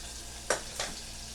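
Breadcrumbs hitting melted butter in a pan for mac and cheese, giving a steady soft sizzle with two brief louder crackling bursts, close and without talk.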